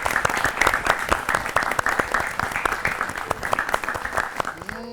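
Loud, dense applause from an audience at a children's show, steady and continuous for several seconds before it begins to fade at the end, with a voice briefly rising over it.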